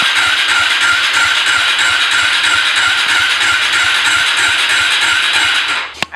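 A Suzuki jeep engine cranks steadily with a fast, even churning rattle, loud and close, then stops abruptly near the end with a brief clunk, and no one talks.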